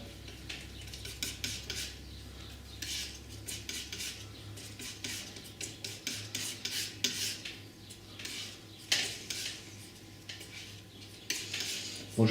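A palette knife scrapes and smears white, ultramarine blue and magenta paint together on a palette, giving soft, close rasping strokes in an irregular rhythm with quiet pauses between them.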